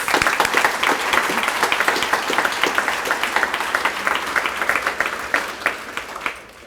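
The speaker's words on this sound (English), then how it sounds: "let's give our community a huge round of applause." A community audience at a college topping-out ceremony breaks into a huge round of applause, dense steady clapping that stays loud throughout and thins slightly near the end.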